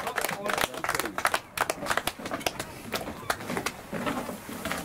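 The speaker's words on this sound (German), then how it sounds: "Und nochmal einen dicken Applaus für Platz 3." Applause for the third-place team at a fishing cup awards ceremony in Norway, with dense, sustained clapping throughout and some talk mixed in.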